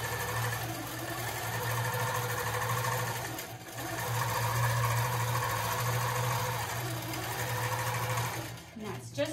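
A longarm quilting machine runs basting stitches across the end of a quilt at four stitches per inch, giving a steady, continuous mechanical whir with a low hum that dips briefly midway.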